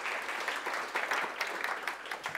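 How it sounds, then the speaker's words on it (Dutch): Warm audience applause welcoming a speaker at a Science Café evening on space in The Hague, steady crowd clapping at moderate loudness throughout. "Een hartelijk applaus"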